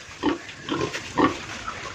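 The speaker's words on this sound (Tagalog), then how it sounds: "Wow, karisyon nga mga baboy." Several large pigs in a rural yard in Leyte after a typhoon, grunting in short, close bursts about every half second with light background noise.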